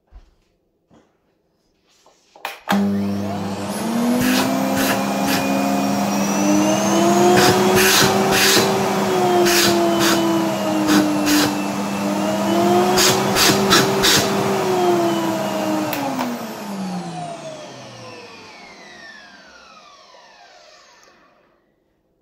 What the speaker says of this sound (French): C'est pour faire voir que l'aspirateur fonctionne.